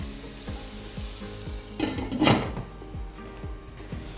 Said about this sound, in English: put the lid on, turn it down to a nice slow heat, and just let the onions sweat out a little bit